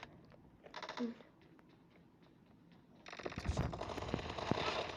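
Gunfire in the PUBG Mobile video game: a short burst of clattering shots, then a longer loud rattling stream of rapid fire, heard faintly under a low-level recording.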